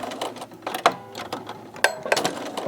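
A sewing machine stitches a flower quilt block at a slow pace, with short bursts of mechanical whirring and clicking separated by brief pauses, close and fairly clear with no talking.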